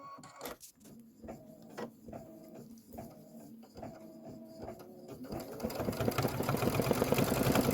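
A Kimberbell embroidery machine stitches the center fill of a Sit and Stew pillow block, with a steady series of short, evenly spaced mechanical bursts that give way to a denser, louder whirring run near the end.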